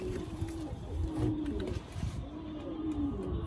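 A male piebald pigeon coos in a loft, its low throaty calls rolling out in repeated close phrases, steady and fairly loud, with no voices over them.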